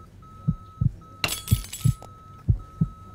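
A drinking glass knocked over on an operating table in the surgery game Surgeon Simulator, giving one loud crash and a clatter of glass, set against a steady rhythmic heartbeat monitor and beeping tone.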